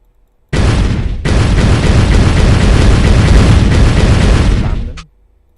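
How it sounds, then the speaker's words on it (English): A loud, continuous roaring blast from the exploding pineapple in Bloons TD 5, bursting in suddenly, swelling after a brief hitch, then holding broad and heavy for several seconds before cutting off abruptly. "this is where the exploding pineapple comes in"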